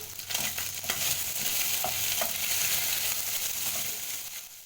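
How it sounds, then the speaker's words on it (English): Beef browning in olive oil in a pot, a steady loud sizzle and crackle of frying with occasional stirring scrapes, continuous throughout with no talking. "First you need to brown your beef with some olive oil."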